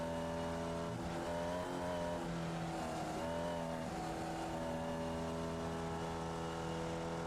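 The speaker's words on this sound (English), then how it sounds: "Just feathers the throttle through that section of the racetrack." Onboard sound of a Formula Vee race car during a circuit race, its engine note droning steadily and shifting pitch as the throttle is feathered through a section of track, with faint tire and wind noise.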